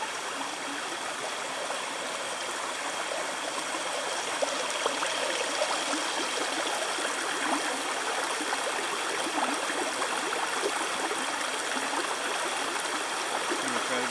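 A stream flowing on a wet forest trail in the rain, a steady broadband rushing and splashing that stays constant and moderately distant, with no voices clearly standing out.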